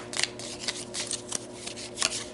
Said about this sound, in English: I'm gonna pull these away and I'm gonna start shuffling